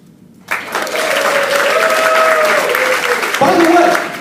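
Wedding guests break into sustained applause that starts abruptly, swells loud and dense with clapping and a few cheers, then surges again near the end, filling the room.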